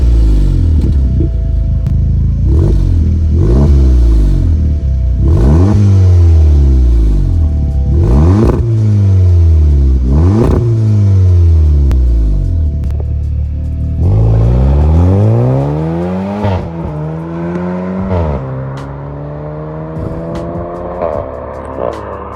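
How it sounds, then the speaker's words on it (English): A 2016 VW Polo GTI fitted with a Cobra catback exhaust revs repeatedly, loud and close, each blip rising and falling in a steady rhythm before a longer pull climbs higher and settles back to idle. "So I've got a Cobra Catback exhaust, and this does wonders."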